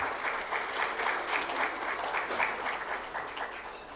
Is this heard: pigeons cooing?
no